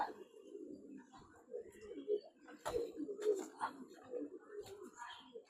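Pigeons in a netted loft coo softly and repeatedly, their low, rolling calls overlapping, with a few sharp knocks and a faint voice in the background.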